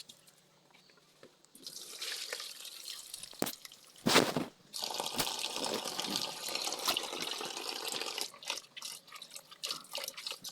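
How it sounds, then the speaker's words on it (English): Beans for akara being washed in a bowl of water, with continuous sloshing, swishing and rattling of wet beans and a louder splash midway, close by and with no talking. "So you wash your beans."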